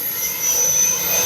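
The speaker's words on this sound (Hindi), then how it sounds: "हेलीकॉप्टर यहाँ से फ्लाइट करता हुआ" A helicopter flies over a large crowd at an outdoor political rally, giving a loud, steady turbine whine and rotor roar that holds for the whole moment.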